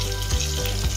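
Butter sizzles loudly in a pan while paneer butter masala cooks, a dense, continuous close frying hiss with a low bubbling rumble beneath.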